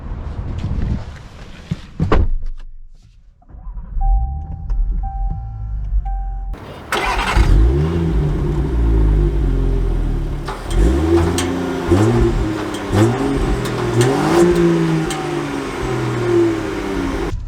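A 2022 Range Rover Sport HSE Silver Edition starts up, settles into a steady idle, then pulls away with rising engine note and gear changes, loud and close, alone with no talk.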